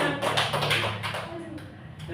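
A classroom of students clapping their hands, a short burst of close, uneven claps that quickly thins out, with talk around it.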